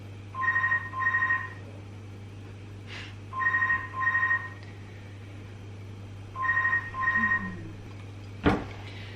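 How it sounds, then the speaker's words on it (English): Telephone ringing in a home kitchen, three double rings in an even pattern, moderately loud over a steady low hum, ending with a short clatter. "The phone's ringing."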